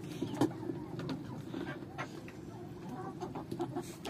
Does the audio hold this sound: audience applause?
no